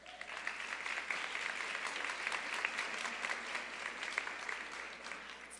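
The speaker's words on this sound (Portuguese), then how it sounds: "Vamos dar uma salva de palmas para Jesus," A church congregation applauds during a service, sustained dense clapping from many hands with scattered sharper claps standing out, steady and even across the whole stretch, heard from a slight distance in a large room.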